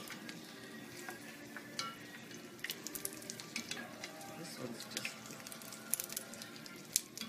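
Cannoli shells sizzle and fry in hot oil, a steady crackling bubble with scattered sharper pops and spatters, heard close up, with brief speech over it.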